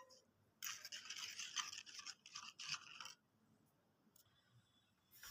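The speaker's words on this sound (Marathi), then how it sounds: "हे सगळं आता छान मिक्स करून घेऊया." Spoon stirring a mix of crushed peanuts, chilli powder, salt and water for peanut chutney, quick scraping bursts for about two and a half seconds, then a pause and a fainter scrape, close and quiet.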